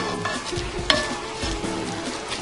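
A spoon stirs and scrapes French onion soup in a pot, the browned sides being worked loose, giving a soft continuous scraping with one sharper clink partway through, close and moderately loud with no talking.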